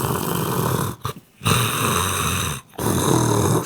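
A person imitates snoring with loud, rasping, drawn-out breaths, three long snores separated by brief pauses, close and alone without talk.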